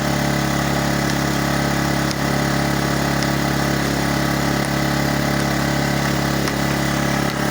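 An inverter generator engine runs at a steady, loud, close drone after its carburetor was cleaned, holding an even note throughout without stalling.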